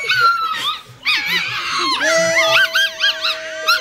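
A pet dog howls and whimpers in rising, wavering yips and long, sliding cries, loud and close, with a person's voice briefly mixed in.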